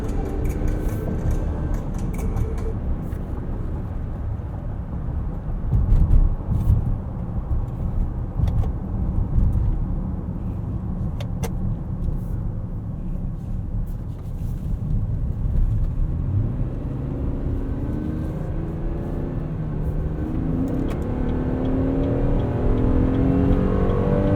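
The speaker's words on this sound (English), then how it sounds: "Now all-wheel drive is engaged. We are cornering in this Traverse." A 2023 Chevrolet Traverse in all-wheel drive, heard from inside the cabin while driving and cornering, gives off a steady low road and engine rumble with tyre noise that rises slightly in the final seconds.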